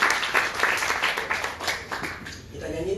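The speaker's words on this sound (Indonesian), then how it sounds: "Tepuk tangan buat Tuhan." A church congregation claps together in a steady, fairly close round of applause that slowly fades, with voices heard over it.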